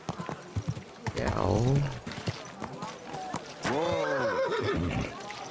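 A horse neighs twice in drawn-out whinnies, amid hoof clatter and faint game sounds from Kingdom Come: Deliverance II.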